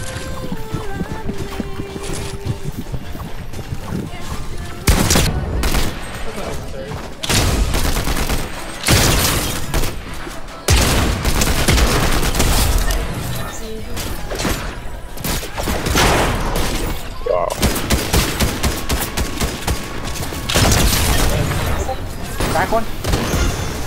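Dense gunfire in a competitive shooter game played on PC with keyboard and mouse, loud rapid bursts and booming shots coming nearly nonstop, with players talking excitedly over the fighting.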